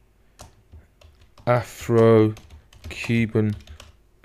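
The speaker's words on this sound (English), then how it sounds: "Go into the top right hand search window and type in ABC" A few light clicks of typing on a computer keyboard, followed by a short burst of close speech.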